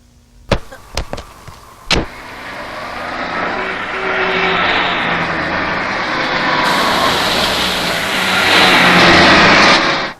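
A car in a comedy scene revs and drives along with a steady, loud engine and road roar after a few sharp knocks at the start, the sound building toward the end before cutting off.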